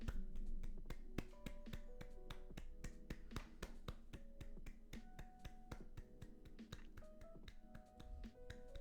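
Hands clap quickly and evenly in a long run of sharp, close claps, faint and steady, over a soft background tone.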